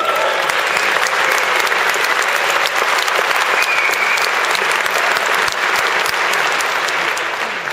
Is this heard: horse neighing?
no